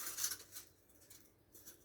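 Foam board for a model railroad riser being cut, a faint scratchy cutting sound in short strokes, close and quiet with no talking.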